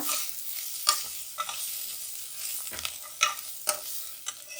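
About a tablespoon of poppy seeds fries in a pan for chicken sambar, giving a soft steady sizzle with a few sharp scraping strokes as the seeds are stirred, close and moderately loud.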